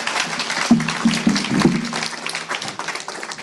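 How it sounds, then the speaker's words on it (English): Audience applause at a youth climate-solutions event, a steady patter of hand claps swelling and then thinning out, with faint voices mixed in. "A round of applause for Take Action Global and Consum Global."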